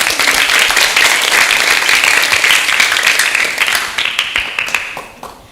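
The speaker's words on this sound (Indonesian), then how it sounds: "Berikan tepuk tangan yang meriah." A school audience at a Christian primary school event in Gunungsitoli breaks into lively, dense clapping that holds steady, then thins into scattered claps and fades out.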